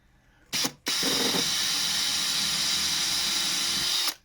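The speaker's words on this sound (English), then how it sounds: "It's a case of changing the drill bit out for a smaller one for the eyes." A drill bores small eye holes into a wooden turned snowman with a small spike-tipped wood bit: a brief burst, a pause, then a steady loud whine lasting about three seconds before cutting off.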